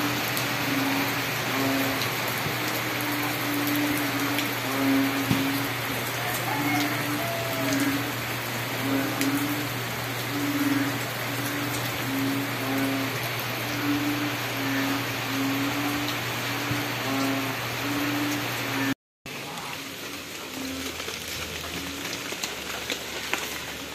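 Steady, dense rain hiss fills the whole stretch, with a constant low drone underneath and a brief dropout near the end.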